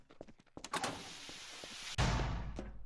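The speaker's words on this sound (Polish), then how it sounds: "Zamknąłem drzwi sobie przed twarzą." A heavy door shuts inside the Garry's Mod SCP Breach game: a single solid thunk with a low boom that lingers and fades over the next second, after some faint clicks and shuffling sounds.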